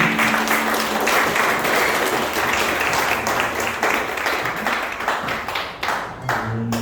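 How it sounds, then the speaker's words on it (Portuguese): A church congregation at a Portuguese-language worship service applauds, with dense, steady clapping that holds for several seconds and then tapers off with a few scattered claps. "Pode aplaudir o Senhor."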